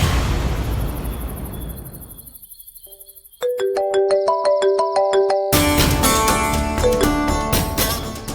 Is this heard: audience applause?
no